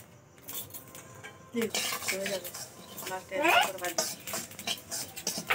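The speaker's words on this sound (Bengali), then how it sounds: "তার জন্য আগে মৌরি কড়াইয়ে দিয়ে দেব" Fennel seeds, cumin and black pepper are dry-roasted in a wok, with metal utensil clinks and scraping stirs in quick bursts after a quiet start.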